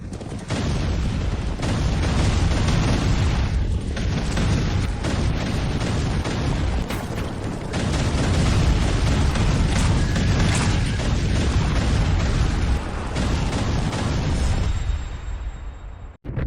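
Cannon blasts from tanks in a dubbed animated battle, a dense barrage of booming fire and crashes rolling continuously and loudly for most of the stretch before cutting off near the end.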